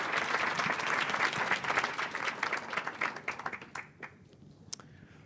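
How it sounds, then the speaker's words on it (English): A room full of people at a leadership workshop breaks into a round of applause, dense clapping that thins out into scattered individual claps before stopping. "give a round of applause"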